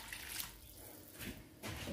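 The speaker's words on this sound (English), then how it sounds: "So I'm going to go ahead and add some water." Water poured into a cooking pot for couscous, a steady hissing splash that swells in short bursts, fairly soft and close, with no talk over it.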